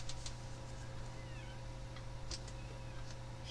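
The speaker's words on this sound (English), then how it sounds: "Cat, shush." A pet cat gives a few faint, short meows over a steady low hum, quiet and slightly distant, with no other voices.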